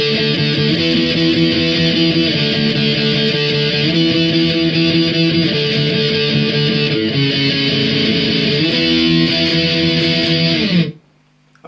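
Driving distorted electric guitar chords play the chorus of a song in a steady repeating strum, loud and alone, before cutting off abruptly near the end.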